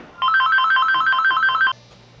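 A mobile phone rings in a quiet room during polymer clay miniature work, giving a loud, high, trilling electronic pattern that repeats rapidly for about a second and a half before cutting off abruptly, with no speech over it.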